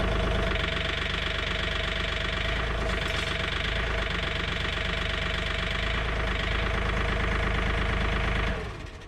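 A John Deere 3046R tractor engine idles steadily with a knocking, chugging rhythm close by while its mower deck is lowered, then cuts off at the end.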